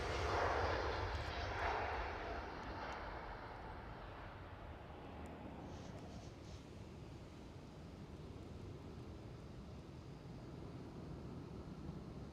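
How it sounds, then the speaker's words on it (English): Delta Air Lines Airbus A330neo at Schiphol Airport, its engine roar strongest in the opening seconds and then easing to a steadier, fainter rumble as it moves away, alone with no talk. "A330 and Neo, Delta Airlines."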